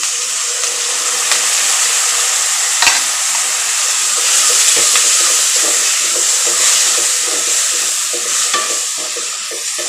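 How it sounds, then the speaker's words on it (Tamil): Tomatoes and onions sautéing in oil in a pan, a loud, continuous sizzle with soft stirring scrapes, close and unbroken by speech. "தக்காளி நல்லா வதங்கட்டும்."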